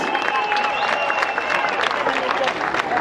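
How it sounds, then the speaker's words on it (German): A packed outdoor crowd on Severinskirchplatz in Cologne, at the longest-table street event, applauds a performance with loud, continuous clapping and cheering that fills the whole stretch. "Vielen lieben Dank für den tollen Applaus"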